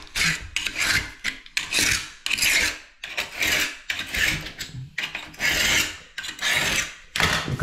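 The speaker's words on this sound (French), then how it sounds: "tu prends ton cutter et tu viens tout simplement" A utility cutter blade scrapes half-dried tile adhesive off new wall tiling, a series of rough, rasping strokes in a steady back-and-forth rhythm, close and fairly loud with brief pauses between passes.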